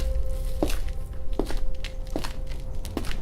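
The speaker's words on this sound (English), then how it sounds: "Then I heard it. Footsteps." Four slow, evenly spaced footsteps in a horror story, each a soft thud, set against a steady low hum and background noise, with no one talking.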